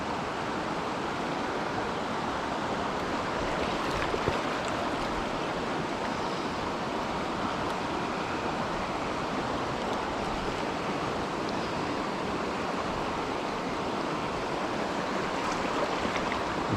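Delatite River water flowing past in Victoria, a steady close rushing and burbling wash that carries on unbroken, with no talking.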